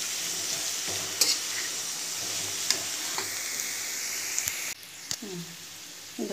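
Potatoes frying in oil in a pan, a steady bright sizzle throughout with occasional scraping stirs and clinks, close and fairly loud.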